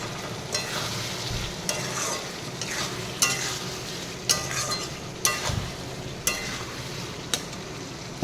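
Potato curry sizzles steadily in a pan while a spoon scrapes and stirs it every second or so, regular sharp scraping knocks over a constant close frying hiss, no voices.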